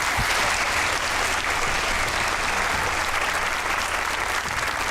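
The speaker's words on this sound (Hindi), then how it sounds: "ताली होनी चाहिए गिलानी साहब की।" A studio audience at a comedy talk show gives a sustained round of applause for Gilani sahab, a steady, even wash of clapping throughout with no voices over it.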